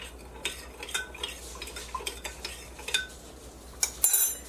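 Warm water for pizza dough, with sugar in it, is swirled around a container, a light close clinking and sloshing with quick irregular taps and a brief louder clatter at the end.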